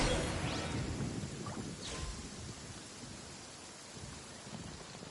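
Steady rain in the Genshin Impact video game, a dense hiss of falling drops that starts strong and eases slightly, heard alone without voices.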